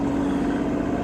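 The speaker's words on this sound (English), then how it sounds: "You can hear that truck for sure." A truck passing on a local road, a low steady engine drone with a tonal hum, moderately loud and unbroken through the brief moment.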